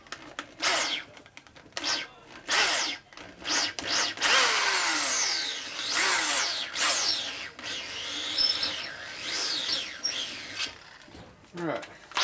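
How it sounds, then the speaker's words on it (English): A reamer is wobbled inside a hole in a Harley-Davidson Shovelhead motor case, giving repeated rising and falling metallic grinding whines in uneven, close, fairly loud bursts with short pauses between. "So I just wobble the reamer around when it's in the hole here like this."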